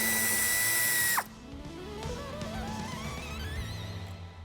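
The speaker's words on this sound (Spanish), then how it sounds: "Aflojamos el tornillo." A power tool loosens a screw on the battery power distributor of a 2024 Volkswagen Caravelle T7, whirring loudly at high speed for about a second before stopping abruptly. Softer mechanical handling noises follow.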